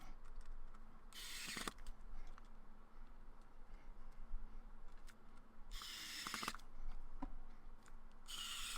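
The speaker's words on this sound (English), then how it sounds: "and then we can get some of our screws installed" Small screws go into a Nintendo Joy-Con replacement shell, heard as three quiet, short whirring bursts with faint ticks and clicks between them.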